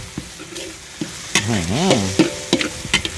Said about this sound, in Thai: เราจะผัดกับตัว พริกกระเทียมนะครับ ผัดให้หอมก่อนเลย